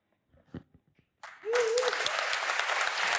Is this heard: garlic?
no